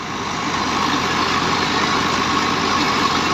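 A thresher driven by a 1918-model Fiat 640 tractor runs with a loud, steady mechanical roar and engine drone, unbroken throughout and with no voices.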